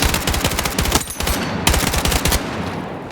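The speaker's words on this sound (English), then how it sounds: "Tap firing, continuing to tap fire on these targets." Rapid tap-fired shots from a modified weapon in Battlefield 6 crack out in short clustered bursts, loud and close, with a brief pause mid-sequence before another quick volley.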